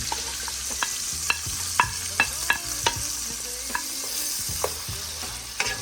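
Garlic, parsley, green onion, cherry tomato, yellow onion and fresh thyme sizzle in a pan for lobster scampi while a utensil stirs them, with sharp scrapes and clacks at irregular intervals over a constant close frying hiss.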